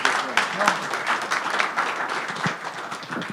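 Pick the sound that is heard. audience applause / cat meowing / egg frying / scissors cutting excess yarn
audience applause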